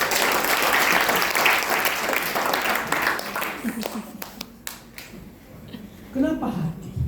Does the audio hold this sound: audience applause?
yes